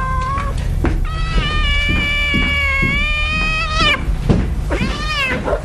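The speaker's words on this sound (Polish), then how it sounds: "jeszcze te koty" Several cats meowing up close, with long drawn-out, wailing calls that overlap one another against a low background rumble.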